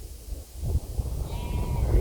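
Sheep bleat close by beside a steam railway, a few short calls rising over a low rumbling background with no talk.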